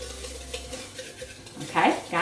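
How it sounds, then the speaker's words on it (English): A spoon stirring a baked oat breakfast mixture of oats and sucanat in a bowl, soft scraping strokes close up, with a couple of louder scrapes and clinks toward the end. "Now, I'm going to go ahead and kind of give this a stir."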